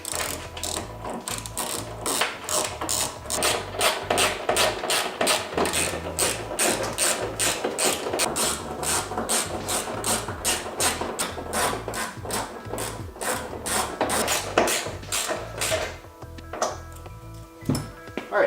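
A power driver tightening screws with washers during a VelossaTech wing riser kit install, giving a loud, close, rapid ratcheting clatter in repeated bursts that stops near the end.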